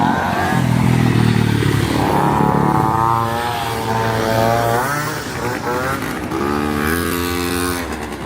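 Loud motor vehicles with rising and falling engine whine, sounding like motorcycles or drone-like craft, passing on a city street in Kyiv at night; the tone sweeps up and down as they go by, dense and close throughout.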